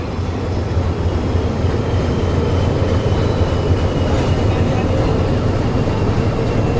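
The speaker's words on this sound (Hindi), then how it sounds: "तो यहाँ प्लेटफॉर्म नंबर 2 पर डीजल लोकोमोटिव से लगाई जा रही है हमारी वाराणसी नई दिल्ली महामना एक्सप्रेस।" A diesel locomotive idles with the Varanasi–New Delhi Mahamana Express at a station platform, giving a steady, loud low rumble with broadband station noise and no distinct clatter, continuous throughout.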